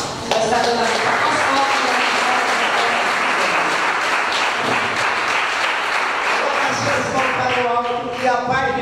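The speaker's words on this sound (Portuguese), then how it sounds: "Recebemos o pastor com palmas." A church congregation applauds the pastor during a Sunday worship service, with steady, dense clapping that fills the room throughout and voices rising over it near the end.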